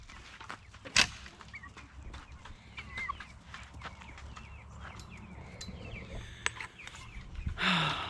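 Chickens and turkeys in an orchard give scattered clucks and short calls, near and fairly faint, with a sharp snap near the start and a louder burst of calls at the end.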